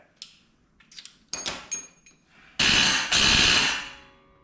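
Loud, sharp metallic hammer blows near the mic strike a socket during Miata rear bushing and bearing work, preceded by lighter clinks and taps, then two long harsh bursts of banging.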